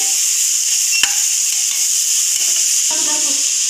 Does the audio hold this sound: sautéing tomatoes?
yes